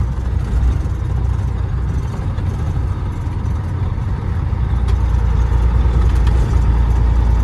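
An owner-operator semi truck's engine idles steadily and loudly during clutch tests, with a deep, even rumble and no talking.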